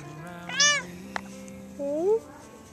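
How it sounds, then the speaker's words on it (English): A stray cat in a backyard gives two clear, drawn-out meows, close by, with a brief soft click between them and faint low background hum. "this is a cat that I have in the backyard"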